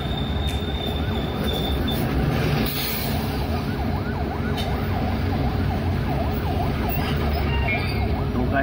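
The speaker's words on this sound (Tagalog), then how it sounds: "ang dami namang ambulansya." An ambulance siren wails with a rising and falling warble through congested traffic on a Philippine highway, over a steady wash of road and engine noise, strongest in the second half.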